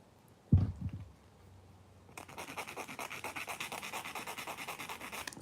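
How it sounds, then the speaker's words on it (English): Nail file rasping along the edge of a press-on nail, close and quiet, starting after a soft thump and then a steady run of rapid back-and-forth scratching strokes. "I'm just literally filing the edge of it, or else it's going to look so not nice"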